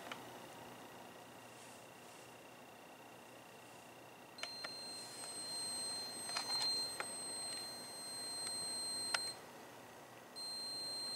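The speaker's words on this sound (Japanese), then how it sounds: "2つ目がブザーを鳴らす機能です。" A small GPS tracker's electronic buzzer beeps in bursts of high-pitched tones, some sustained and some repeated, against a quiet room background.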